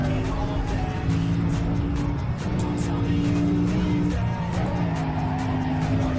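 A race car in the Need for Speed Most Wanted game roars along at sustained high revs, with a gear shift midway and faint tire squeal, loud and close throughout.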